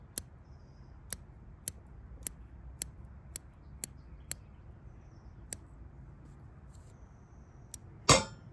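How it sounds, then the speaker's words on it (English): Scissors snipping at cherry laurel roots while repotting, a series of sharp isolated clicks spaced about half a second to a second apart, then a louder scraping rustle at the end, all fairly faint and close. "Those are my scissors."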